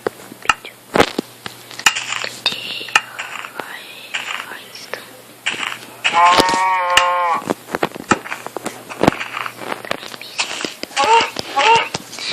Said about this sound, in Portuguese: Tem que chegar perto da vaca.